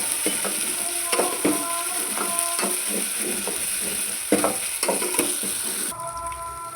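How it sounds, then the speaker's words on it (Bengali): Spices fry in oil in a pan for mutton kofta, giving a steady sizzling hiss broken by repeated spatula taps and scrapes against the metal. The sizzle drops quieter near the end. "মশলাটা এখন ভাজা হচ্ছে।"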